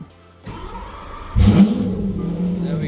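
A 2016 Lamborghini Aventador LP-600 engine cranks and fires with a sudden loud burst, then settles into a deep, steady idle rumble close by.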